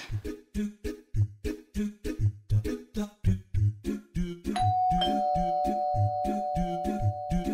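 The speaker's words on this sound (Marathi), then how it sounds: "वाजू देत बेल." An electronic doorbell rings partway through with a sustained, clear chime tone, cutting in over a rhythmic musical background that runs the whole time.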